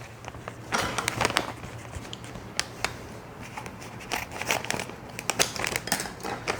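A bag of roasted almonds is cut open with crisp crinkling and rustling of plastic, scattered sharp snips and crackles over a faint steady hum.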